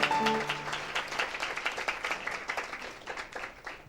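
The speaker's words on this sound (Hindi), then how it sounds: "एक जोरदार ताली देते हैं परमेश्वर के नाम की महिमा में।" A worship meeting congregation claps in praise, a brief tonal note fading at the start as scattered, uneven clapping rises and continues, moderately loud with individual claps distinct.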